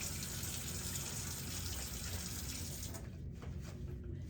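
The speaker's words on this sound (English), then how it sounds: "I'm going to turn the water off." Tap water runs loudly and steadily into a sink during handwashing, then the faucet is turned off about three seconds in, leaving a softer trickle and draining sounds.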